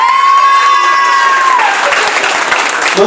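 Loud crowd applause with cheers at a Miss Prestige Réunion beauty pageant, a sustained held vocal tone over the first half before the clapping and shouting take over, dense and close.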